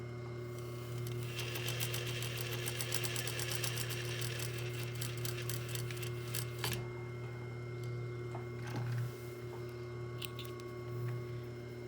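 A sewing machine runs steadily while stitching a shirt seam with a 1 cm seam allowance, giving a continuous mechanical whir with light rhythmic clatter and a few brief pauses and clicks, near and alone without speech.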